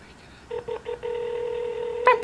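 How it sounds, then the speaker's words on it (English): Telephone keypad tones on a clinic's automated phone line after pressing 3, a few short beeps followed by a sustained two-tone signal and a brief higher chirp at the end, heard up close. "It's kind of weird dial tone, right?"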